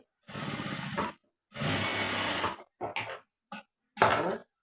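A sewing machine stitches blouse pieces together in a handful of bursts: two longer runs of about a second each, then several short spurts of stitching, with quiet pauses between them.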